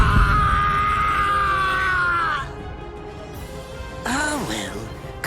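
A man screams in pain in the Bleach: Rebirth of Souls video game, one loud sustained cry lasting a couple of seconds, followed after a short lull by a briefer wavering yell.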